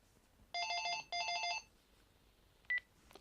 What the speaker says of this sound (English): oh, and that's my house phone.